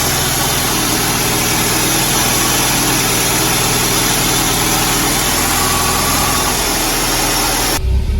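A 1983 Cadillac Cimarron engine idling steadily after sitting unused for 23 years, a loud close continuous rumble with a slight vibrating hum that cuts off abruptly near the end.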